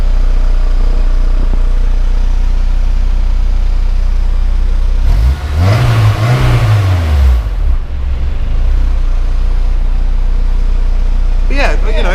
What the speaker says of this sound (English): There's a slight rattle, which is a loose heat shield.